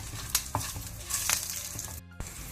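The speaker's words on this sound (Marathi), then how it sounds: "उंजतना मिरसांगो, 2 बयो लसणीच्यो आनी इल्लीशी कणपीर तिके भाजून काडया." Chillies, garlic and curry leaves roast in a little oil in a pan, giving a steady close sizzle with a few sharp stirring scrapes and clinks, briefly cutting out near the end.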